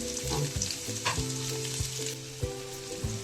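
Onion and green chilli sautéing in a pan, a bright continuous sizzle broken by occasional spoon knocks and stirring scrapes, heard close with no voices.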